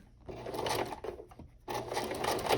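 A home sewing machine stitches through a stabilized fabric tote bag, running in two close bursts of steady whirring with a short pause between them as it back-stitches.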